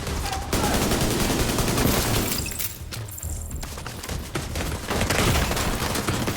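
A rogue sniper turret in the video game The Division 2 fires a sustained burst of sharp, loud shots, dense and continuous with a brief lull midway.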